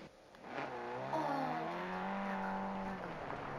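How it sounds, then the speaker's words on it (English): Car engine in a video game shooter, heard from a short way off, a steady revving drone that rises slightly and holds across the clip, loud and continuous with no voices over it. "I hear a car."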